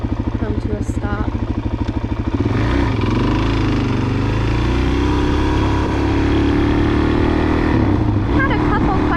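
A Suzuki DRZ motorcycle's single-cylinder engine thumps steadily at idle up close, then revs and pulls away into a loud, sustained riding drone with wind rush.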